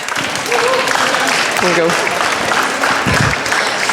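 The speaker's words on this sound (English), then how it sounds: "Please give them a big applause." A conference panel audience applauds with steady, dense clapping throughout, while a voice speaks briefly over it.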